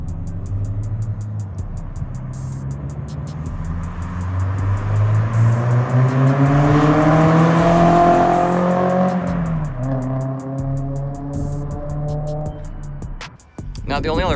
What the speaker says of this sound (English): The amount of pops and bangs that this car makes when you downshift is unreal.